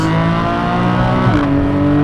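A Porsche Cayman GTS 4.0 engine revs hard and climbs in pitch, briefly dropping as a gear shifts before pulling upward again, close and steady.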